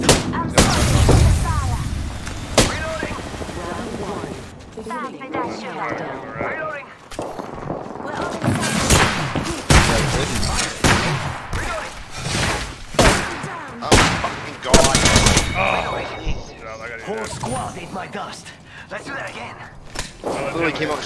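Gunfire in an online shooter video game: repeated rapid bursts and single shots with occasional booms and footsteps, loud and close, mixed with players talking over the action.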